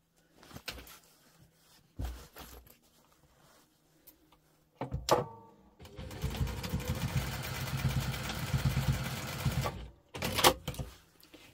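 A sewing machine back stitches a seam on a double compartment crossbody bag, with a few short clicks and handling knocks, then a sustained run of stitching for about four seconds before a final brief burst.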